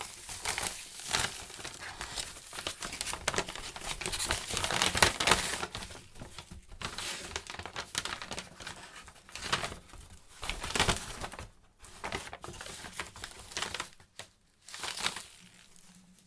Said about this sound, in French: Je mets les objets que j'ai accumulés dans le sac.